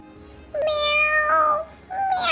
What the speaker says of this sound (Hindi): चेरू एक बार फिर से जोर से म्याऊं करता है।